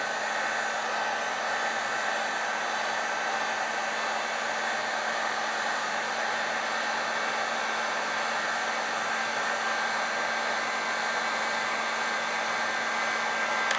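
A heat gun on low heat shrinks adhesive-lined 3-to-1 heat shrink tubing, blowing a steady, unbroken whooshing drone with a faint tonal hum, close and constant throughout.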